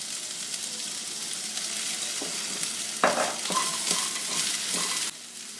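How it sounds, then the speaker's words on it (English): Chopped okra with roasted peanuts and curry leaves stir-frying in a pan, a steady close sizzle broken by several sharp scraping stirs and a clatter near the end, then quieter frying. "In goes the chopped okra."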